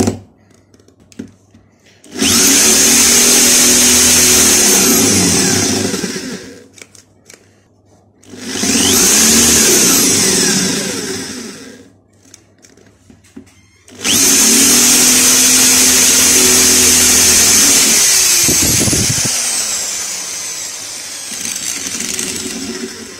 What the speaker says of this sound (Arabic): فالحل الوحيد هنجيب الدريل ونفور راس المسمار عشان نقدر نخلع الجزء ده